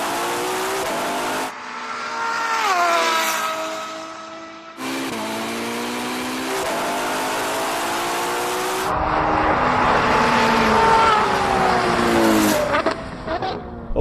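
Several Ferrari cars launch hard at the start of a drag race, engines screaming and rising through gears with tire squeal, fading then returning as another run roars loud and close.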